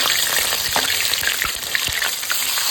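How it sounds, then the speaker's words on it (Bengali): Fish, added three at a time, fry in hot oil in a pan with a loud, steady sizzle and crackle, broken by occasional pops, close up and without talk. "গরম হয়ে গেছে, এখন আমি মাছগুলো ভাজবো।"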